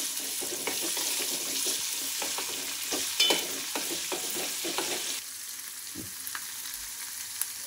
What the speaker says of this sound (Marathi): फोडणीमध्ये जिरे घालूया, नंतर आलं लसूणची पेस्ट,